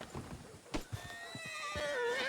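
A horse in the video game Red Dead Redemption whinnies in a long, wavering neigh that rises then trails off, preceded by a few scattered hoof clops and thumps.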